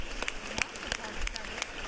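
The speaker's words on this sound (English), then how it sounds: "Let's give them a round of applause up there in the gallery." Faint, scattered applause rises from visitors in the gallery of a state House chamber. Sparse individual claps sound distant over low room noise and last only a moment.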